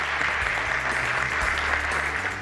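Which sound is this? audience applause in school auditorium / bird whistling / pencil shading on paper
audience applause in school auditorium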